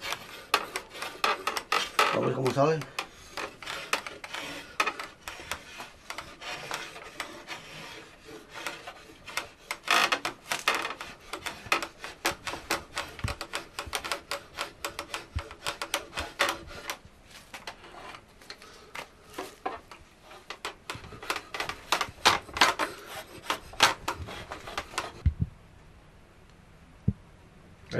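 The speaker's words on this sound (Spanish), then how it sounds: "prefieres pasar la rasera muy fino y no pasar lijas ni otras cosas" A wooden pitchfork being shaved with a hand scraper in a traditional pitchfork-maker's workshop, heard as steady rhythmic rasping strokes for about 25 seconds, ending in near quiet, with a few brief spoken words.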